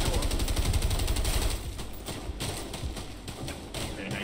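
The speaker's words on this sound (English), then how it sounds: "how about I lay down cover fire, you move." Rapid bursts of covering gunfire in the video game A Way Out, a dense rattling volley that is strongest at the start and continues more softly, faint and compressed.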